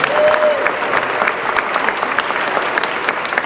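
At an abortion rights rally in Rhode Island, a crowd claps loudly for the governor, a brief, dense burst of applause with scattered cheering, steady over a few seconds.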